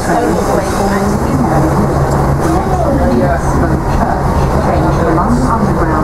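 Docklands Light Railway train heading to Canary Wharf, a steady loud rumble and whine of the carriage in motion running throughout, with faint voices of passengers underneath.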